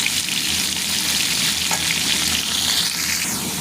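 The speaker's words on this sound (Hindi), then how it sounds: "इसे हम अच्छे से फ्राई करेंगे।" Chicken pieces, cut small, sizzle and fry steadily in a hot pan for a Chicken Manchurian bread roll, a dense continuous crackle close by with occasional stirring scrapes and no talk.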